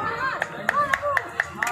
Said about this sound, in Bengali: হাততালি, একটু জোরে হাততালি